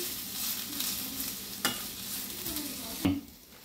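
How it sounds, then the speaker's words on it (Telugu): Leaves frying in a pan for chutney as they are stirred, giving a steady sizzle with a few sharper scrapes of the spoon and no voices. "ఇంకా వేగాలి."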